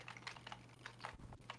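Quick, light keystrokes tap out a rapid, irregular patter on a computer keyboard during a Terraria gaming stream, close and quiet, over a faint low hum.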